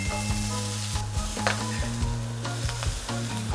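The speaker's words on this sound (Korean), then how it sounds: "제일 먼저 볶을 거는 다른 야채를 넣어주실게요." Vegetables stir-frying in a preheated pan for Taiwanese-style fried noodles give a loud, continuous sizzle, broken by repeated sharp clatters and scrapes of stirring, close by and with no talking.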